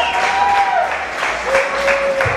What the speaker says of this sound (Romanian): În aplauzele dumneavoastră, Nicu Benga, Transilvania Lu, prietenul meu